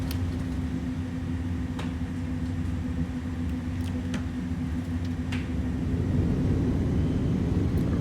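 Thrust reversers deployed on an Airbus A300-600 landing in a flight simulator, a loud sustained engine roar with a steady low drone that swells slightly toward the end.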